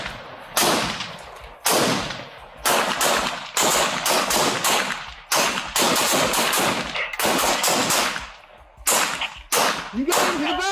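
Gunfire during a police raid: repeated loud, close bursts of rapid shots and single cracks, separated by brief gaps, with faint voices between.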